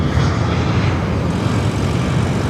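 A Qantas airliner on approach to land at Sydney Airport gives a loud, steady engine roar, broad and rumbling, holding evenly without any breaks.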